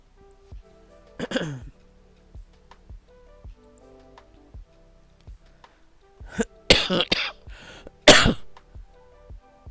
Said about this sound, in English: Oh, I'm so sorry about my cough.